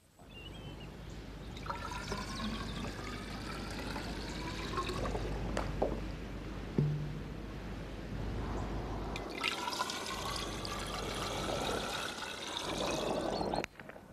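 Water trickling and pouring steadily down a ramp into a collecting vessel during a Galileo-style rolling-ball experiment, a soft continuous flow with small drips and splashes, fairly quiet and close.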